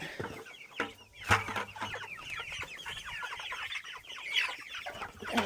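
Chickens clucking steadily on a farm at morning feeding time, many overlapping calls close by in a dense, continuous chatter, with a few sharper squawks standing out.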